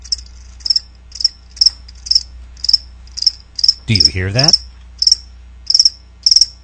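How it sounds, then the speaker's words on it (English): Crickets chirping in short, evenly spaced pulses, close and clear over a faint low hum, with a voice speaking briefly in the middle. "That's right, crickets."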